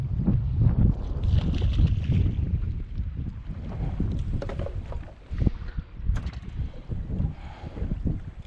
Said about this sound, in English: The wind's just gnarly.